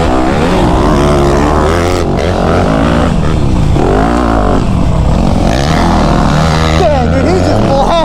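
A dirt bike engine labouring through deep sand, a loud, continuous close drone with shifting revs and gear changes, wind rush over it.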